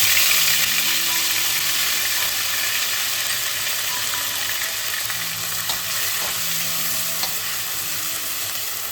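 Cumin, coriander and ginger paste fry in tempering oil with whole garam masala for a Bengali potato and pointed gourd dish. The sizzle is even and sustained, with light stirring and scraping throughout.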